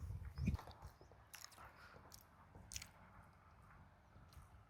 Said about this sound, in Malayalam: പാൻ കേക്ക് ഡിപ്പ് ചെയ്ത് കഴിക്കട്ടെ.